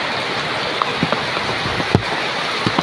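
Steady rain hisses over an open outdoor spot where a motorbike is getting soaked, with a few louder drops and splashes popping out of the wash.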